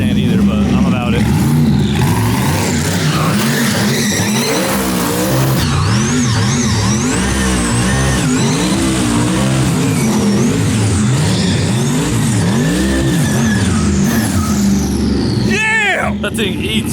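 A 1200 hp twin-turbo Corvette Z06 time-attack car revs hard and spins its wide rear tires, loud and close with rising and falling engine sweeps and a sustained roar; people talk over it.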